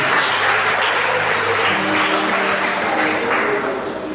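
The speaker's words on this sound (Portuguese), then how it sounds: "Uma salva de palmas ao nosso Senhor." Applause fills a church conference gathering, sustained crowd clapping at steady loudness throughout, with faint background tones beneath and no speech.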